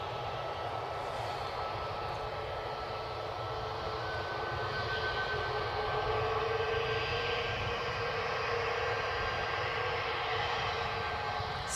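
A Boeing 737 jet airliner with split scimitar winglets passes at Newcastle airport, a steady, fairly distant engine roar and whine holding evenly throughout.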